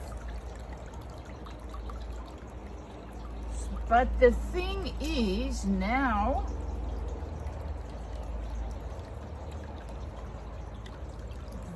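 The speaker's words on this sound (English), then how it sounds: "It's keeping the water there, slowly seeping it through." Water slowly trickling and seeping through a kitchen sieve holding wet paper pulp during homemade papermaking, a faint soft drip and trickle running under a person speaking.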